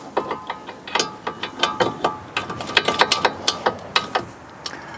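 A hand ratchet clicks in quick uneven bursts while tightening bolts on a 2013-2017 Honda Accord rear wheel bearing, the crisp metallic pawl ticks close and distinct with short pauses between strokes.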